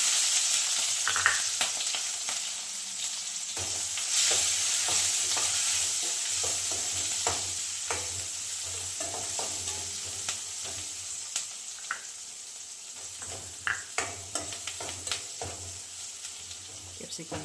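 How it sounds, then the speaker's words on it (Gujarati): Capsicum pieces with green garlic and asafoetida stir-fried on low heat in a pan for a broccoli paneer sabji, a steady close sizzle broken by scraping stirs and spoon knocks, with faint talk. "કેપ્સિકમ સરખી રીતે સતળાઈ જાય એટલે એમાં આપણે થોડુંક નમક નાખી દેવાનું"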